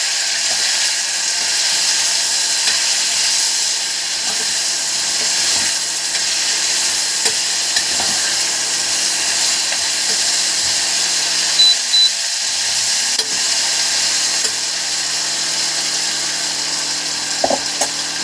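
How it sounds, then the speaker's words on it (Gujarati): Sliced okra fries in oil in a pan over medium flame, giving a steady broad sizzle throughout, with occasional scraping and stirring sounds from a spoon against the pan. "2 મિનિટ આપણો ભીંડો સરસ ફ્રાય થઈ ગયો છે."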